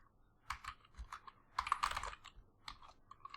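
Java code being typed on a computer keyboard, a quiet, irregular patter of close keystrokes with brief pauses and no talking.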